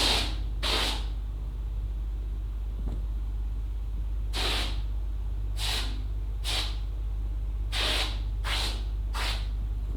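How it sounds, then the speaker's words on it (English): A pressurised foam sprayer lets out short hissing bursts, about eight separate spurts at irregular intervals over a steady low hum, close and fairly loud. "it does spray"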